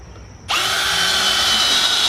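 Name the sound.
power drill drilling a hole in broken stone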